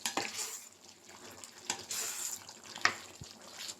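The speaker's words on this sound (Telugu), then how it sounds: "ఇప్పుడైతే చికెన్ కలిపేస్తాను." Chicken curry is stirred in a cooking pot, giving wet scraping and sloshing scrapes with a few sharp clinks of the spoon against the pot, close and alone.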